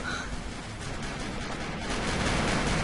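Rapid gunfire from the online shooter game Avatar Star, a dense continuous barrage of shots running steadily throughout at full loudness, no voices.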